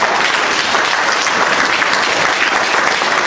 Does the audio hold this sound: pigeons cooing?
no